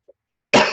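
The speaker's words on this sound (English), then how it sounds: "Let me be unprofessional and clear my throat" A single throaty clearing burst, loud and close, preceded by a tiny faint sound and a brief silence.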